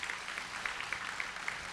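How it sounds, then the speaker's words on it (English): A conference audience at a higher education leadership summit gives a round of applause, faint and distant with scattered claps over a steady soft patter. "Could we give them a round of applause?"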